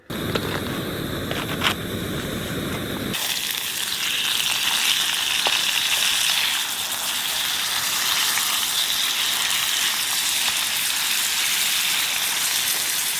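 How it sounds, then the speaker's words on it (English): Food frying in a pan makes a loud, continuous sizzle that runs the whole time, harsher and busier for the first few seconds, then settling into an even hiss with no voices. "Hear them sizzle."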